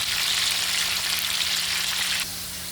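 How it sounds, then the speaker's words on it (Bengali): Potato pieces lightly frying in hot oil in a pan, a steady loud crackling sizzle that drops slightly quieter near the end. "আলুগুলো হালকা ভেজে নিচ্ছি আমি"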